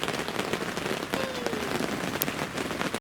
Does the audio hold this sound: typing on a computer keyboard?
no